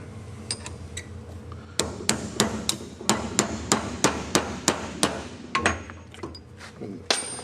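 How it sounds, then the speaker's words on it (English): Hammer striking a small tapered punch against the snap ring of a universal joint on a 1999 Toyota 4Runner: a few scattered taps, then a fast, steady run of sharp metallic blows, close up. "So I just have a small tapered punch. I'm going up against the end of the snap ring."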